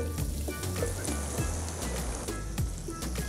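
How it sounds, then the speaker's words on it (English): Okra searing in hot oil in a pan, a steady soft sizzle with small crackles and pops throughout, heard alone and fairly close. "we got to get the okra first, just to sear it off"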